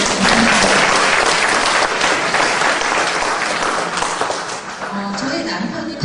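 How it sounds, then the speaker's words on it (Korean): An audience bursts into loud, dense applause, a sustained wash of clapping that fades slightly toward the end. "박수 한번 주시겠어요?"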